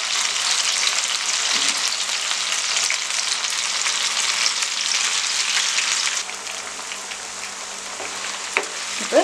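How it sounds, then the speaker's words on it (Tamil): Fish pieces shallow frying in oil over a medium flame for fish Manchurian, a steady loud hiss and crackle that drops slightly partway through, with faint scraping and a few bubbling pops near the end. "இப்போ நம்ம கொஞ்சம் கொஞ்சம் ஃபிஷ்ஷாக போட்டு நம்ம வந்து ஃப்ரை பண்ணி எடுத்துக்கலாம்."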